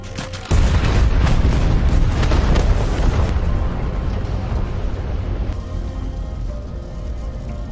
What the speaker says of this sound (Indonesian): Dan setelah itu pun ledakan pun terjadi.